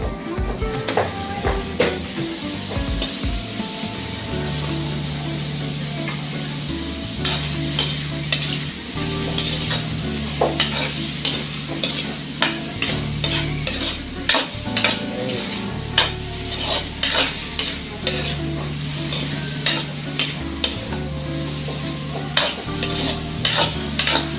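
Pork fat sizzles and fries in a hot pan for a bopis dish, a constant crackling hiss broken by frequent sharp scraping and clanking of a utensil stirring against the metal.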